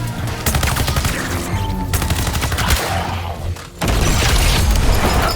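Turrets blast away nonstop in the Suicide Squad video game, a thick, loud barrage of rapid gunfire and booming impacts with a brief dip before the firing swells again.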